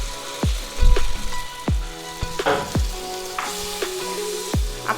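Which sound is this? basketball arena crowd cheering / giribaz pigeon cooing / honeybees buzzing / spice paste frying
spice paste frying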